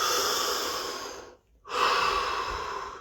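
A single slow, deep breath during a guided body-scan relaxation: a long, close, airy inhale, a brief pause, then a full exhale, quiet and unhurried.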